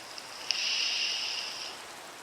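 Rain falls in a video game, a quiet steady hiss that swells in after a brief tick and holds for about a second before easing back down.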